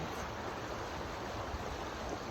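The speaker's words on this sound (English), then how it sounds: "It's never really like flowing like this. This is like an overflow from the cleanse that just happened." A river swollen by recent rain flows in a steady, full rush of broadband water noise with no breaks, heard alone without voices.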